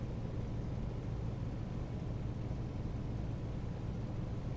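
Steady, loud droning engine noise from a Junkers Ju52/3m in the MSFS flight simulator with the cockpit window open, a continuous broadband roar with strong low rumble and no pauses or voices.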